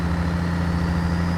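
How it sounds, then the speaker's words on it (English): Steady low rumble of a Caterpillar 3406E heavy truck engine idling in a video game, constant and unchanging throughout with no voices. "Listen to that engine sound."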